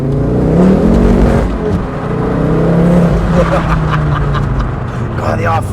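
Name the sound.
Ford Focus RS Mk2 accelerating hard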